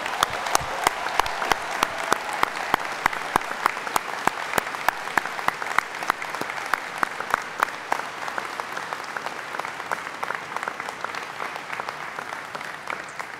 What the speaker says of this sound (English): join me in giving the graduates a huge round of applause, congratulating them